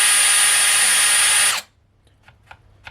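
A cordless drill runs loudly and steadily at full speed, then cuts out abruptly partway through, leaving near silence with a few faint clicks and handling sounds.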